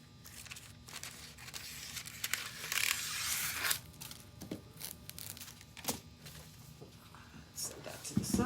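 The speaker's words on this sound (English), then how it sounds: "Cut a little piece." A small piece of V-Mask Indian Bronze foil is cut for an ornament, with snips, soft crinkles and rustles of thin metallic foil close by and faint, alongside quiet talk.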